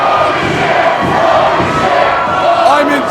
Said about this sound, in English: The crowd chanting, holy shit, Orlando Christopher.